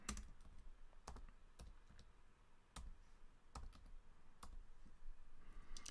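Keys clack on a computer keyboard as a supplier name is typed into an invoice register report, a few close, uneven bursts of clicks with short pauses between them, no talking.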